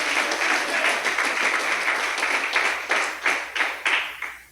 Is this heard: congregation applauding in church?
yes